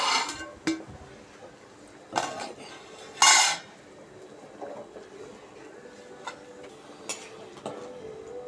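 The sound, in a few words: lid being put on a cooking pot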